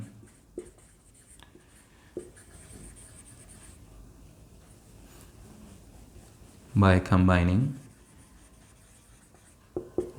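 Marker or chalk scratching across a board during a physics lecture, faint intermittent strokes heard close, with a teacher's voice speaking partway through.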